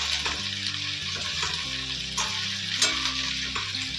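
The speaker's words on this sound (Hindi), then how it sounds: "और इसको हल्का हल्का फ्राई करते रहेंगे।" Okra and onions fry lightly in a pan with a continuous close sizzle and occasional stirring scrapes, while soft background music plays under it.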